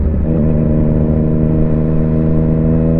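A 2021 Yamaha MT-09 motorcycle fitted with a full-system sport exhaust revs steadily up close, its loud, throbbing engine note holding continuously throughout with no talk.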